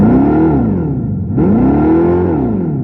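A Dodge Charger EV's synthetic engine sound plays loud and close under full throttle, a droning electronic tone that rises, dips, then swells again and hovers without building to a peak, no voices.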